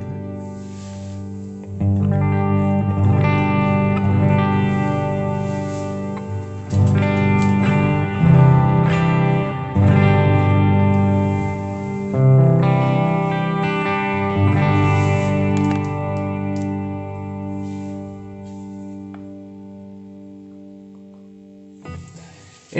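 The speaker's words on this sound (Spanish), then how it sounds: "tengo un booster, pero tengo el compresor igual también activado, un Eleven Reverb y igual el multicorus" An electric guitar played through a HeadRush unit with booster, compressor, Eleven Reverb and multichorus, strummed chords ringing in lush, shimmering layers with long reverb tails, alone and loud, fading out near the end.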